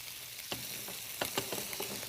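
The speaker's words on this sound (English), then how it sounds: "I'm going to add my onions. With a little bit of oil, teaspoon or so." Onions frying in a pan with about a teaspoon of oil, giving a steady close sizzle with a few sharper crackles and stirring clicks, alone and fairly quiet.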